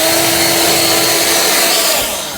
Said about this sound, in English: The next one is the battery powered blower.